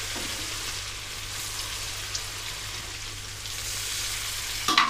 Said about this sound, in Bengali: এবার বাদবাকি মাংসগুলো সেম প্রসেসে আমি এবার ভেজে তুলে নেব